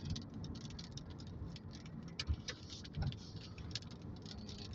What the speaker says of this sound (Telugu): చూడండి వాన పడుతుంది